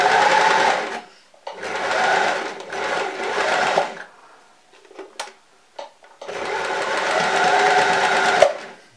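A domestic sewing machine stitches fabric for a handmade hand puppet, running in several whirring bursts of a few seconds each, separated by quiet pauses with small clicks and handling noises.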